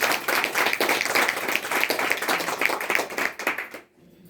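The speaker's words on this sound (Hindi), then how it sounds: "जोरदार ताली बजाते हैं।" An audience claps loudly in dense, sustained applause that cuts off abruptly near the end.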